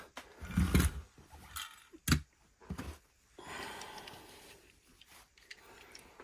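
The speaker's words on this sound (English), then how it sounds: "They're all wrapped up in this tissue paper, so let's just get them out." Crinkly rustling of tissue paper being pulled open from around vintage 1978 Dinky Toys diecast vehicles, in several sharp bursts up close, followed by softer lingering crackles.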